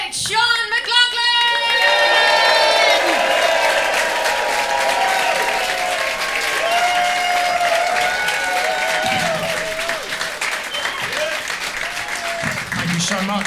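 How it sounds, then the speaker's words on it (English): A packed comedy-gig crowd in Bristol bursts into loud, sustained applause and cheering as the comedian takes the stage, the dense clapping filling the whole stretch with whoops rising over it. "People of Bristol, put your hands together and welcome to the stage, Sean McLoughlin!"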